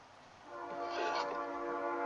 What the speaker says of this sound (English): I hate how trains, they like blow their whistle while they're going through the intersection, or like through the crossing.